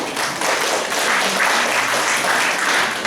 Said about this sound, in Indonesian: Ya, tepuk tangan buat Nadia.